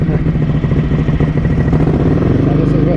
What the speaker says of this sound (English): This is loud. This is with these special exhaust headers